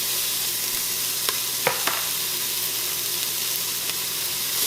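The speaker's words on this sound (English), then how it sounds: "1 tablespoon olive oil. And then I've sliced very thinly 1 onion. Get it all in there." Thinly sliced onion fries in olive oil in a pan with a steady, close sizzle and hiss. A few light clinks of stirring sound over the frying.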